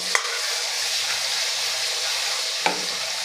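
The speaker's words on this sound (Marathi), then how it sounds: "आणि छान असं आपल्याला हे परतून घ्यायचं आहे" A ground coconut-sesame masala paste sautés in hot oil for a black val bean bhaji. A constant close sizzle is broken by two sharp stirring scrapes near the start and end.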